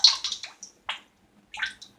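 A synthetic-bristle paintbrush dipped into water, giving a few short wet splashes and drips with brief gaps between them, close and fairly clear, with no voices.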